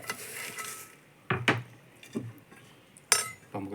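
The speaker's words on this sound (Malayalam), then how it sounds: "പ്ലേറ്റ് എടുത്ത് ആ പ്ലേറ്റിലേക്ക് ഇങ്ങനെ ഞാൻ കോരിടാം കേട്ടോ" Rice flake sweet (aval vilayichathu) being scooped onto a plate, with a few separate clinks and scrapes of a spoon against the dish amid quiet pauses.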